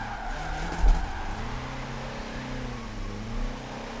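A Ford Ranger Raptor drift truck slides in second gear, engine droning steadily with a brief louder bump near the start, tires scrubbing sideways throughout at moderate distance.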